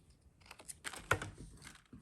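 A corner rounder punching through a plastic bag during junk journal crafting: a few sharp clicks and crunches, with one louder snap near the middle, fairly quiet and close, with no talking.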